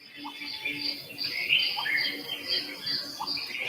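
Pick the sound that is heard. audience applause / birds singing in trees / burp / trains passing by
birds singing in trees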